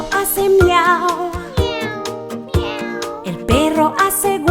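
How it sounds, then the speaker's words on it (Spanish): A cat meows over and over in a song about animal sounds, each drawn-out, wavering meow clear and close, with short breaks between calls and musical backing underneath. "El gato hace miau"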